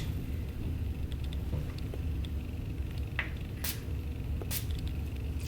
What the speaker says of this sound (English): And I'm using my Urban Decay All-Nighter Spray to do that.